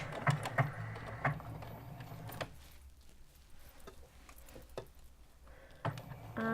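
A home sewing machine runs a back stitch on a garment sleeve, giving a soft, fast mechanical patter in short bursts separated by pauses, close up and moderately quiet with no talking.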